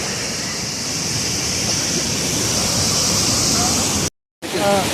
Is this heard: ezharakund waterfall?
yes